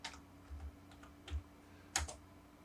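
A few quiet keystrokes on a computer keyboard entering a command in AutoCAD, soft separate clicks spaced unevenly over a couple of seconds, close but faint.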